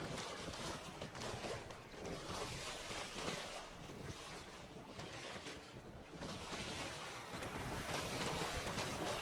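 Aboard a sailing boat at sea in Skellige in The Witcher 3, a sail flutters in a constant roar of wind over washing waves, broad and unbroken throughout.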